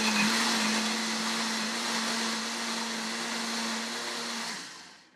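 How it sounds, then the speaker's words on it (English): A blender whirs steadily as it blends salad dressing ingredients and water, a loud, continuous motor drone with a constant pitch that holds for several seconds and then starts to wind down at the end. "Sorry, here goes the blender."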